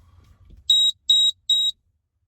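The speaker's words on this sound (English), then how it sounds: "smoke detector mounted in the cab of the truck, carbon monoxide" A smoke and carbon monoxide detector mounted in a truck cab gives three sharp, high electronic beeps in quick, even succession, close and clear over a faint low rumble.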